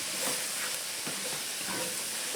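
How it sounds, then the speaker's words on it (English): Cream and water boiling in a pot on the stove for shrimp and grits, giving a soft, steady bubbling hiss with faint surges, fairly quiet and with no talking. "So our cream and our water is boiling."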